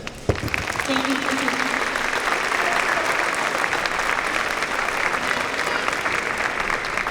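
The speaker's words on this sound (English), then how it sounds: "a round of applause" Sustained audience applause at a school district band festival, steady and fairly loud clapping from a crowd lasting several seconds, with a brief voice at the start.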